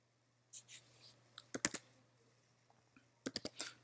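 Someone types Python code on a computer keyboard: quiet, close clicking keystrokes in short irregular bursts separated by pauses, with a faint steady hum beneath.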